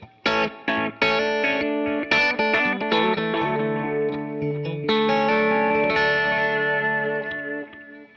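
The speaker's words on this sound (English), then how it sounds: "Here's adding a little reverb." Electric guitar with delay and a touch of reverb, a flowing phrase of overlapping notes that smear into a sustained, shimmering wash, each attack trailed by echoes before the sound gradually fades away.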